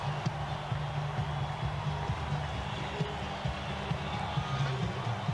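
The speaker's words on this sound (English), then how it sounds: "Listen to this crowd." A baseball crowd at Dodger Stadium in Los Angeles during a 2004 playoff game keeps up a steady roar of cheering, a broad, continuous wash of noise from the stands.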